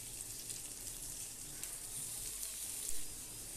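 Ginger paste frying with potatoes in a pan gives a steady, close broadband sizzle that holds evenly throughout, with a small stirring bump near the end and no voices.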